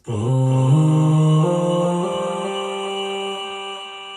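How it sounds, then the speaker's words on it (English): Layered, sustained sung harmonies glide between a few held notes, smooth and wordless, with a gentle fade as they ring out. "just harmonizing in the background"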